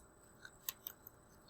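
A pair of craft scissors clicks faintly a few times as it is picked up and set down, quiet and close against a soft room hiss.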